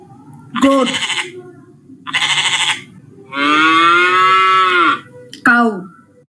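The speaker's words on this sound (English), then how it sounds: "Cow." A domestic cow moos in a deep, sustained call, framed by several shorter loud animal calls, near and loud with no talk.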